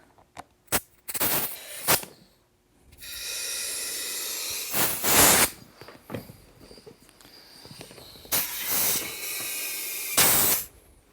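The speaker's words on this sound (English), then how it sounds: "I'm still going to use my compressor just to give the tube a little bit of shape." An air compressor nozzle blows air into a lawn mower tire inner tube in several separate hissing bursts, some short and some lasting a second or more, with quiet gaps between them.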